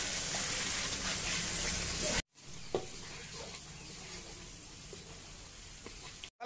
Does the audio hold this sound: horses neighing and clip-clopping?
no